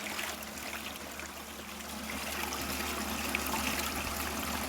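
Water streams steadily from a wraparound spray bar on a 6-inch Gold Rat highbanker, a soft continuous trickling wash that swells slightly toward the end, with no talking.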